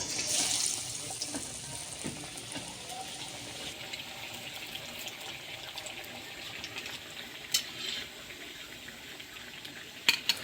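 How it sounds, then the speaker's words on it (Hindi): Chicken tikka shami kebabs, dipped in liquid batter, fry in hot oil in a wok, giving a steady wash of bubbling and hissing with a few sharper pops. "कबाब को इस लिक्विड में डिप करेंगे और सिंपल फ्राई कर लेंगे इसको"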